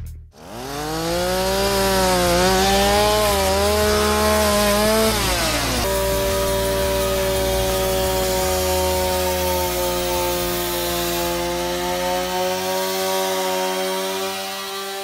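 A chainsaw cuts into wood at close range, its engine revving and then settling into a loud, sustained whine as it bites through the timber. No voices are heard.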